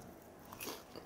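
A single close, crisp crunch as someone bites into a crispy sugar-coated Korean rice cake skewer (tteok-kkochi), a short crackly bite over a quiet background with no talking.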